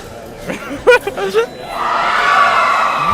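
A crowd cheers at the Oxford vs Cambridge varsity fencing match: a few sharp shouts break out first, then a broad, sustained roar swells and holds steady through to the end.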